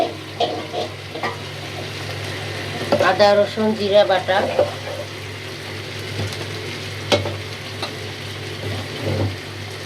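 Chicken pieces for chicken bhuna frying and sizzling in hot oil in a pan while being stirred, a continuous crackle with a burst of louder spatter midway, and a voice speaking briefly over it.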